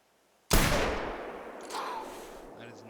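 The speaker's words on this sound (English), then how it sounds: "We could just shoot him with the rifle" A rifle fires at a buck in the hunting video game TheHunter Classic: one loud, sharp blast that cracks in suddenly and then rolls off into a long, fading echo, with no voice heard.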